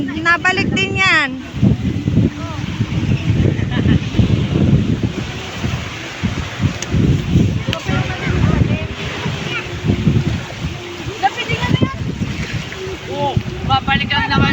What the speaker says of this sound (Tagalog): Mahangin kasi.